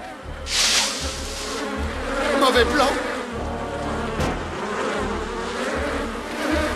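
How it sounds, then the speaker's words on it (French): Mosquitoes buzzing while people hide out in the bushes, a thin whining drone running throughout under nearby talk and rustling, with a brief louder swell near the start. "J'ai l'impression que quelque chose a fait fuir ces moustiques."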